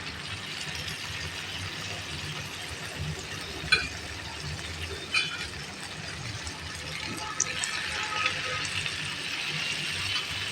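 An egg snack fries in a pan on the stove with a continuous soft sizzle and crackle, steady and fairly quiet, with a few small clicks and pops along the way.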